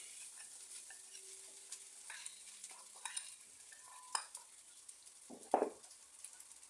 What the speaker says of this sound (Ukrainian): Перемішую